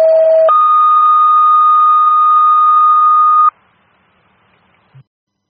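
Fire department dispatch alert tones from the Secaucus, New Jersey radio channel: a short lower tone, then a long steady higher tone held for about three seconds, loud and alone, followed by quiet static and a faint click.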